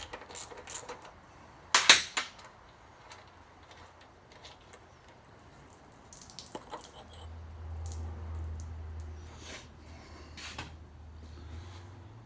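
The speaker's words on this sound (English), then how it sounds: "And pull the bowl off the carburetor here." The float bowl comes off the carburetor of a Predator 212 small engine in a few quiet metallic clicks and scrapes, with one sharper clack near the start and soft handling noises afterward.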